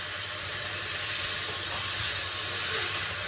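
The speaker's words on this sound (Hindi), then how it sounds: "अब इसके अंदर हम चिकन जो हमने मैरिनेट किया था उसको डाल देंगे, और फ्राई करेंगे" Marinated chicken quick-frying in a pan for Chinese-style egg rice and gravy, a steady close sizzle and hiss running unbroken throughout, with no talk.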